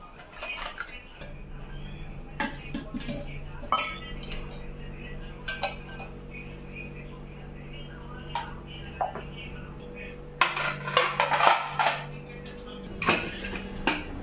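Breakfast pots, dishes and cutlery being washed in a home kitchen, with scattered clinks and clatters of metal and glass over a steady low hum, growing busier and louder near the end.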